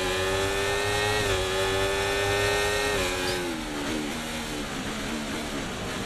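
A Formula 1 car engine in a racing video game drones loudly and continuously, its high, buzzing revs rising and dipping through gear changes for the whole stretch, with no voices over it.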